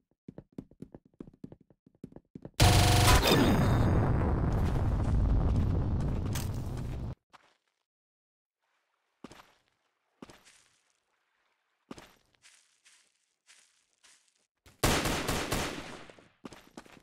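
Gunfire in the Roblox shooter game Arsenal: a loud, sustained burst of rapid shots, then scattered quieter clicks and pops, and another sharp burst near the end.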